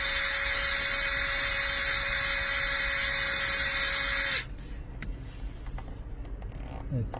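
A power drill bores into a broken valve cover bolt on a Toyota Tarago/Previa/Estima TCR10, running as a steady high whine for about four seconds before it stops and leaves faint clicks and workshop noise.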